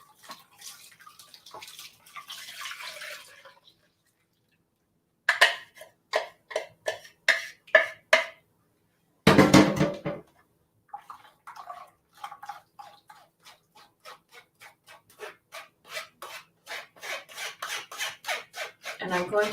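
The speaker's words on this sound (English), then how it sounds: "I'm just stirring this up to get the bottom of the herbs that had settled onto the bottom there" Herbal green juice with settled herbs is stirred in a bowl, making repeated rhythmic scraping and swishing strokes in bursts separated by short pauses, close and fairly clear.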